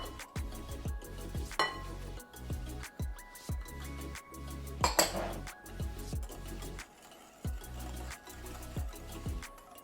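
Thick cocoa and zucchini cake batter being mixed in a bowl: rhythmic heavy thuds and scrapes as a utensil works the stiff mixture, with occasional clinks against the bowl, close and fairly quiet, no voices.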